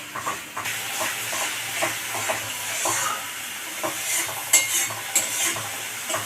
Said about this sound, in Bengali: মশলা একটু কষিয়ে নিই, কাঁচা মশলার গন্ধটা চলে যাবে